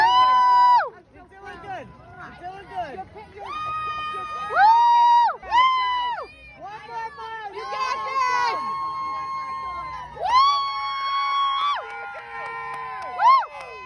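Spectators at a 5K turkey trot whoop and cheer a finishing runner, with several high excited shouts of "woo" in bursts over crowd babble, close and loud.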